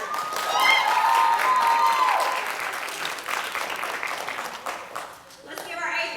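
Warm applause from a school audience at a middle school literacy event honoring eighth-grade winners, steady clapping that swells and fades, with a brief tone early on.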